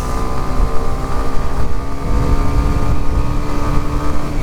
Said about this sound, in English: clutchless shifting is literally as it sounds, where you are shifting gears without using the clutch